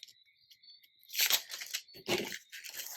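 Scissors snip through a paper sewing pattern piece in a few close, crisp crunching cuts, preceded by a faint high insect-like chirping in the background.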